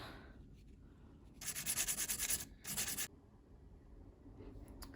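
Silver earrings are rubbed with 220 grit sandpaper in two short, close raspy bursts of rhythmic back-and-forth scratching, set against a quiet background.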